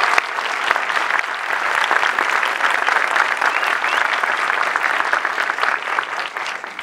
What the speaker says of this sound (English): if you would join me in applauding them for all their efforts.